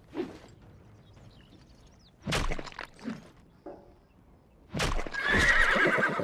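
A horse in the video game Life is Feudal neighs loudly twice amid scattered hoof clops and clatter, with short quiet gaps between the bursts.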